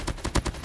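A short, close burst of several rapid shots from an RPD light machine gun fitted with a cooling barrel in a video game, punchy and quick.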